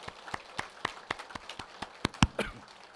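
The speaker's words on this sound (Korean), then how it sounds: "우리 하나님께 다시 한번 감사와 영광의 박수 올려드리겠습니다" A church congregation gives thanks with a sparse round of applause during Sunday worship, distinct individual claps spaced in a loose rhythm, fairly quiet and without talk.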